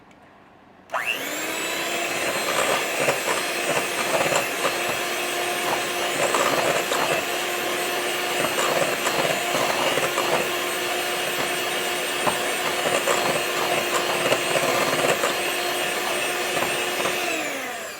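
An electric mixer whips keto chocolate frosting, starting abruptly and then running as a loud, steady whir for about seventeen seconds with no voices.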